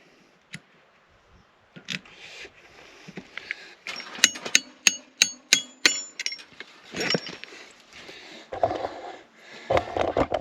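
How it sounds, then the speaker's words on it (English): Hammer bashing a fitting into a Deutz-Fahr tractor, a run of sharp metallic strikes in quick succession, close and clanging, with scattered clinks and shuffling before and after. "Bash that one in with a hammer"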